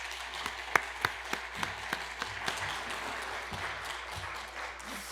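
A church congregation applauding as a preacher comes forward during a Sunday service, beginning with a few sharp individual claps that swell into soft, steady, somewhat distant applause with no talk.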